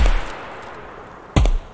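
Gunfire in Escape from Tarkov cracks out as a loud burst near the start, then a second sharp, close report after a quiet stretch, with no talk.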